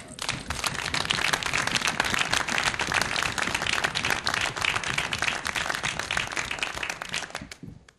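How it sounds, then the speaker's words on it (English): Applause fills a public university board of trustees meeting, a dense, steady round of many hands clapping at full strength for about seven seconds before it fades out at the end. "So let's have another round of applause."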